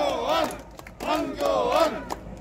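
Outdoor crowd at a Korean election campaign rally in Jongno shouting and cheering in loud chanted bursts, with a break before a second surge of voices.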